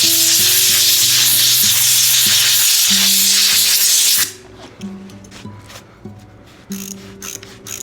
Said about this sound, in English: Then we use some compressed air.